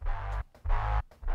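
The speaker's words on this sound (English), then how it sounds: "I've got another 808, which is called the mean 808." Aggressive saw-wave 808 bass in FL Studio for a UK drill beat, three heavy sustained low notes with gritty buzzing upper harmonics, separated by short gaps, alone and up front.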